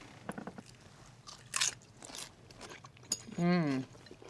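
Someone bites into crunchy sweet potato hash, making a few sharp crunches and chewing sounds close up, followed by a brief voiced murmur of enjoyment.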